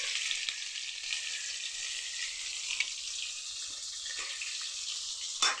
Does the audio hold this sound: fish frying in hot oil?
yes